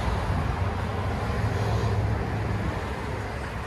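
A 2017 Chevy Tahoe Z/71 with a 5.3L V8 and dual exhaust through a 14-inch Magnaflow muffler with quad tips idles in a steady, deep, rumbling drone, close and constant with no talk.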